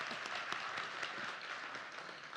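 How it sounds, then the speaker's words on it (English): Applause from a luncheon audience fills the room as a steady, fairly faint wash of many hands clapping, continuous and even throughout with no voices over it. "yes, a round of applause."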